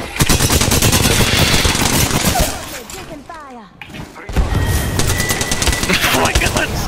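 Loud automatic gunfire from a video game shooter rattles in rapid, dense bursts, dropping into a brief lull with a few thuds in the middle before the heavy shooting resumes.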